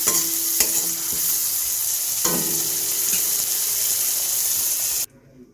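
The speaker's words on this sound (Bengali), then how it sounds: "আমি এটাকে একটু ভেজে নিই" A yogurt and gram flour batter hisses loudly as it fries in a pan for a spicy eggplant dish, with a steady bright sizzle and a few clunks of stirring, then it stops abruptly near the end.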